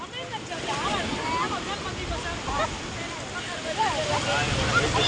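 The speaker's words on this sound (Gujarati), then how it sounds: "કેવા મોજા વળે" Sea waves roll onto the shore and wash in steadily as a broad, rushing surf over wind noise, with people talking and calling out nearby.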